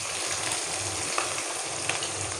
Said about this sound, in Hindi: एक पैन में मैंने ऑयल डाल दिया था, ऑयल हमारा गर्म हो चुका। अब हम इसमें अपने प्याज डाल देंगे।